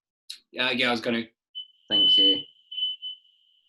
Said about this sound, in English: Sorry, that's just our fire alarm. Its battery's dying.